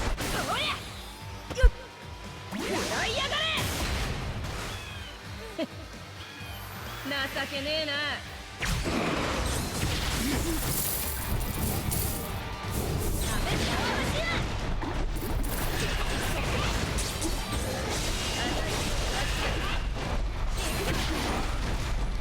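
Mila Rose's Soul Bomb special attack in Bleach Brave Souls unleashes a dense barrage of game effects: mechanical clanks, whooshes and crashing impacts that build into a loud, sustained rumble.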